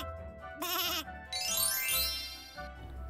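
A baby sheep bleats in a children's Easter picture book being read aloud: two or three clear, wavering bleats in quick succession, close and loud, with no talking over them.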